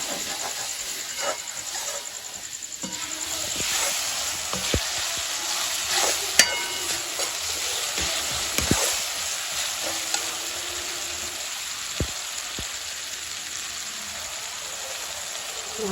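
Onion fries with salt in a pan, giving a continuous hissing sizzle for a long stretch. Scraping stirs and small knocks against the pan recur throughout, close and moderately loud.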